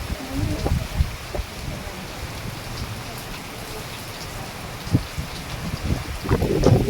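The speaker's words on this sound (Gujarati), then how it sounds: "લીમડાના ઝાડ ઉપરથી ખ્યાલ આવે કે કેટલો પવન હશે અને કેટલો વરસાદ છે" Heavy rain falls with gusting wind in a rural part of Deodar taluka, a dense steady hiss of drops on surfaces broken by scattered louder splashes and knocks, with a distant low rumble underneath.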